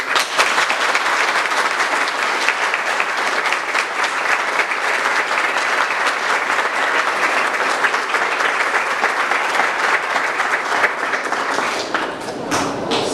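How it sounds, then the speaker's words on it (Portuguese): Sustained, dense applause from a congregation at a church ceremony for a girl's fifteenth birthday, hands clapping at a steady, loud level for around twelve seconds before it starts to thin out at the end. "eu quero que vocês dão um salve de palmas para Jesus"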